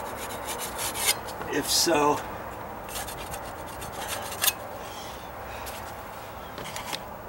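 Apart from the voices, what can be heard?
scraping wood on deck stair repair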